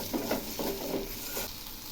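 Capsicum pieces and spices sauté in an oiled pan for Bengali dum aloo, a steady close sizzle with soft scraping stir strokes, with no voices.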